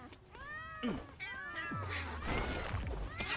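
Cats meowing in the video game Palworld, several drawn-out wavering meows overlapping in quick succession, loud and close over a steady background hum.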